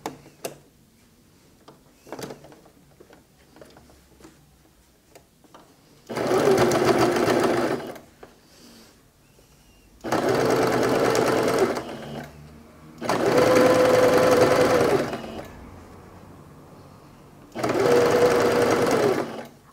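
Sewing machine stitching bias binding under the presser foot, running in four steady bursts of two to three seconds each, separated by pauses with faint handling sounds and no talk.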